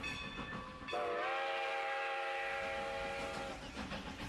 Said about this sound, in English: Mile after mile, the train raced down the valley